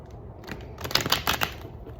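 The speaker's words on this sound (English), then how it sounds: "I was talking while I was counting how many times I was shuffling, so I'm going to shuffle one more time." Tarot cards being shuffled by hand, a short burst of soft riffling and flicking taps in the middle, close and fairly quiet with no talking.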